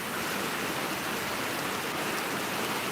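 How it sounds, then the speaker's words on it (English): Steady rain falls continuously, a dense even hiss of drops spread across the whole clip with no voices. "I bet you can hear it raining now."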